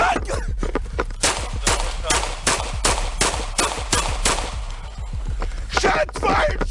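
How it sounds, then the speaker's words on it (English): Gunfire during a police confrontation with armed suspects in Toledo: a rapid burst of many loud, sharp shots in close succession, echoing and overlapping at a fairly near distance, with shouting voices mixed in. "Shots fired! Shots fired! Shots fired, shots fired."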